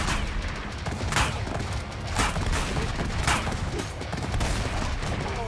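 Rapid sustained minigun fire from Madness: Project Nexus rattles on continuously, with dense overlapping shots and a few sharper bursts punching through the stream.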